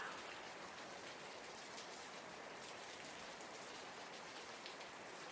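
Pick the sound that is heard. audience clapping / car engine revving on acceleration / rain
rain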